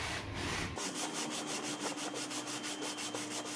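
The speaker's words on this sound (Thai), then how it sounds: "ค่อยๆขัดไปครับเดี๋ยวก็เรียบเอง" Sandpaper rubbing back and forth over a warped motorcycle cylinder head during wet sanding, a steady run of close rasping strokes with no talk.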